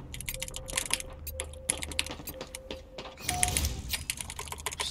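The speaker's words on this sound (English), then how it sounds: "I heard every button or keyboard you pressed" Quick bursts of keystrokes and button presses on a computer keyboard, close and clicky, in uneven clusters with brief pauses and a busier flurry near the end.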